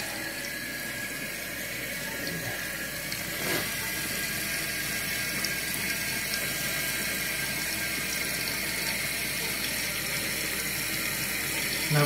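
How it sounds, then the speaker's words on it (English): Toilet tank refilling through a newly installed fill valve: a steady rushing hiss of water with faint mechanical whirring, continuous and close for about twelve seconds. "Now, of course, as the water fills up,"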